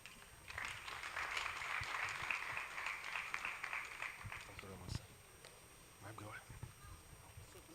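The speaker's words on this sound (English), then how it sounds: "we can sustain that applause for Madam Vice Chancellor" Audience applause at the 29th AESON Annual Conference, a steady broad wash of clapping in a hall that swells and then fades after about five seconds, with a voice speaking briefly beneath it.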